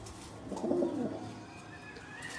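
A pigeon gives a short, soft cooing call close by against a faint background hum.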